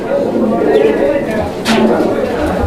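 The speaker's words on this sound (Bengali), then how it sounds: "এই কবুতরটার ডাকটা আমি আপনাদেরকে দেখানোর জন্য একটু ভিতর থেকে মানে যেই খাঁচায় ওদের ওদের রাখা হয় ওই খাঁচার থেকে দেখাচ্ছে" Caged pigeon at a pigeon farm cooing in low, soft calls, with a voice talking over it throughout.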